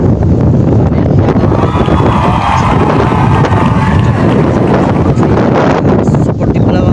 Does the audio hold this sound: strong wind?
yes